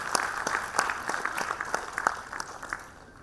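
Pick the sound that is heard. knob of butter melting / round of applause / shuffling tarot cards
round of applause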